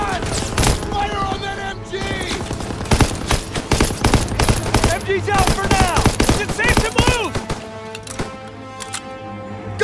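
Rapid bursts of machine gun fire in a Call of Duty war game, mixed with distant explosions, shouting soldiers and battle noise, loud and sustained throughout.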